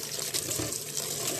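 A faucet runs in a steady close stream as ampalaya leaves are washed a second time, with a few soft splashes and no speech.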